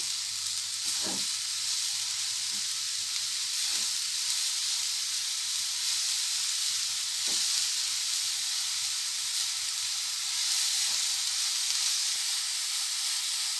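Sugar melting in a pan for milk coconut barfi gives a steady, even sizzling hiss, with a few soft scrapes of a spoon stirring at irregular intervals and no voices.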